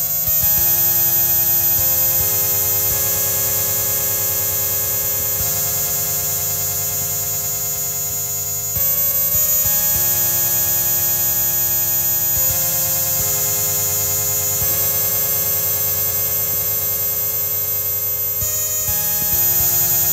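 Generative ambient music from a tiny 256-byte HTML5 program: sustained, steady synthetic drones and tonal layers with a soft hiss, continuous and fairly loud throughout, no voices.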